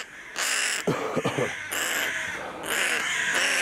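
Young carrion crow harassed by cats, several harsh raspy caws in bursts, close and loud, with a person speaking softly in between.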